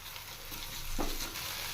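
Tomato and ground spices (coriander, chilli, sambar powder, garam masala) frying in a pan, with a steady close sizzle and a brief scrape of stirring partway through.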